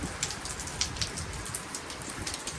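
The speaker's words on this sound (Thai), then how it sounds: "น้ำที่แบบหลังคาก็ไหลหยดย้อย ลงมาประทะพื้น" Rain drips steadily from a roof onto the ground, with a few distinct drops splashing nearby over the soft continuous wash of falling water.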